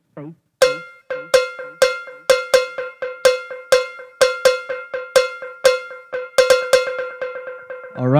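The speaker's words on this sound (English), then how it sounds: "But even one note, if I have, for example, the cowbell." A single cowbell note repeated through a loop station's delay, striking in a steady, even rhythm of sharp metallic hits with decaying echoes, clear and prominent with no other sounds.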